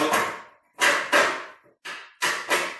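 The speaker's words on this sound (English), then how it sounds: "we're just going to take our hammer, tap a little bit" A hammer taps a metal clip into place on an Aermotor-type windmill wheel, with five loud, sharp strikes in uneven pairs and short ringing decays, up close and without talk.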